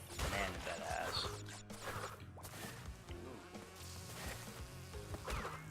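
Dense swarm of bees buzzing in Crash Bandicoot 2 game audio, a steady insect drone layered with game sound effects and music, loud and continuous throughout.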